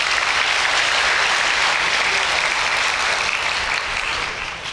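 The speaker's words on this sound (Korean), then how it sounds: "수고하신 분들께 다시 한번 큰 박수 부탁드립니다" Large audience at a university matriculation ceremony applauding after a talk show, a dense, loud, continuous wash of clapping that holds steady and tapers slightly at the end.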